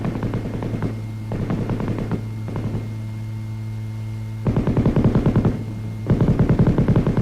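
A 7.62 mm M60 machine gun, gas-operated and belt-fed, fires several rapid bursts of rattling shots over a constant electrical hum, the last bursts louder and fuller than the first.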